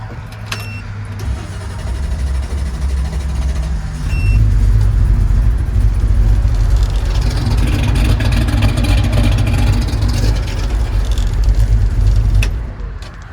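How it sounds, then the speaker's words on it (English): A hot rod car engine fires up and settles into a loud, heavy rumble that swells louder about four seconds in, then holds steady near the microphone before dropping off at the end. "You think we should fire that thing up real quick to make sure that's what it was?"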